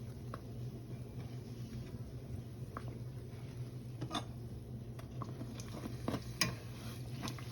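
Soft, steady frying bubbles as bake dough fries three pieces at a time in a pot of oil over a low hum, with a few light clicks and taps scattered through; no talking.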